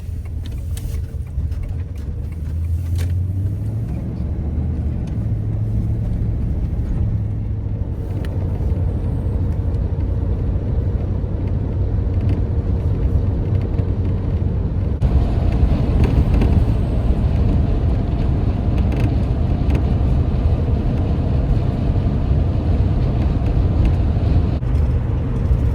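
Downtown Chicago traffic rumbling steadily, with car and bus engines droning close by in a constant dense wash of road noise, no talk.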